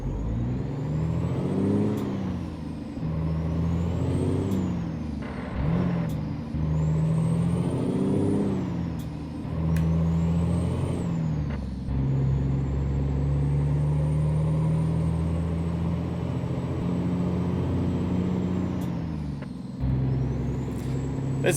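Diesel engine of a custom Kenworth W900 truck in American Truck Simulator drones steadily and loudly, with a low rumble that rises and falls as it shifts through gears, plus occasional sharp air-brake hisses.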